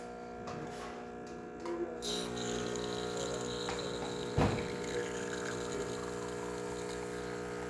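A Breville espresso machine pulls a test shot after a full tune-up for a low water flow fault, its pump giving a steady close hum with a brief louder thump partway through.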